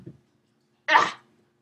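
One short, sharp sneeze sounds close by after a brief faint noise, with silence around it.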